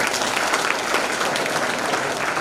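An audience claps in a college hall, a dense continuous round of applause from many hands throughout.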